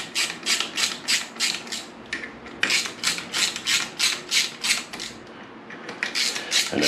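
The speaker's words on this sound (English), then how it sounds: "all the bolts holding the pressure plate on. Rip them all out." A ratchet clicks rapidly and rhythmically at close range in short repeated bursts while the clutch pressure plate bolts come out of a 1998 Kawasaki ZX9R engine.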